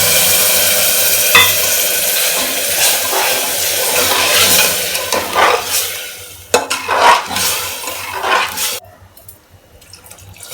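Rajma masala spices with amchur powder and a little water are stirred in a pan, producing a steady scraping, sizzling wet sound that turns choppier before fading near the end.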